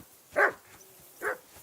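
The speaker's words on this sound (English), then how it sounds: "I assume you can hear that damn dog of yours barking." A dog barks twice in the video game Kingdom Come Deliverance 2, two separate mid-distance barks spaced about a second apart over quiet background.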